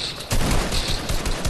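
Rapid bursts of gunfire in the video game Fortnite crackle loudly and close, with several quick shots stacking into a dense, continuous volley.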